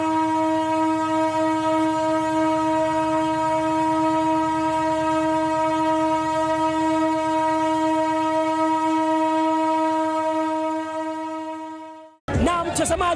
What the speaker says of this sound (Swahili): hiyo ndio hali halisi ya mapokezi ya treni yetu ya Deluxe ambayo ni baada ya miaka 30 inakanyaga Arusha